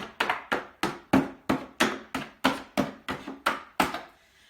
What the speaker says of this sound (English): So I'm using a Phillips head screwdriver, and you're just going to whack away at it on both the bottom and the top.